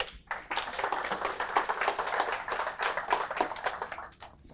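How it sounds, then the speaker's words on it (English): Audience applause for a speaker at a real estate team's training center, a dense burst of many hands clapping steadily for about four seconds before tapering off, with no talking over it. "let's give him a round of applause."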